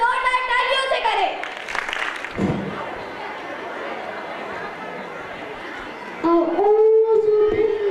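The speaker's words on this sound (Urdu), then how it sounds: "ان کا استقبال زوردار تالیوں سے کریں." An audience at a school annual gathering applauds in a sustained, even wash of clapping and crowd chatter, with a voice speaking over it before and after.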